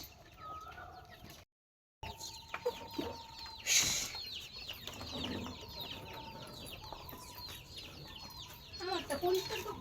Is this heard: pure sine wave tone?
no